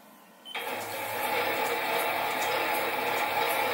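A metal lathe machining a steam engine cylinder cover starts up abruptly, then runs with a steady mechanical whir and faint rhythmic clicking that grows slightly louder, close by without speech.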